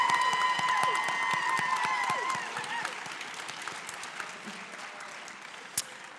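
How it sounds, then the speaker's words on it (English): Theater-night audience applauding student performers at a school fine arts festival, a dense sustained clapping that starts loud and gradually thins toward the end, with a faint tonal sound early on. "Can we please give all of our students that performed one final round of applause?"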